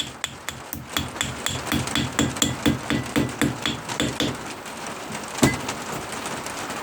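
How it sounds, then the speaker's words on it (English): A gasket hammer taps repeatedly to cut holes in gasket material, a fast run of sharp, close strikes in steady rhythm, then one louder blow near the end, with no talking. "Now you can actually use the this gasket hammer to actually cut"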